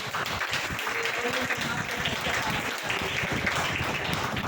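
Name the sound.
congregation applause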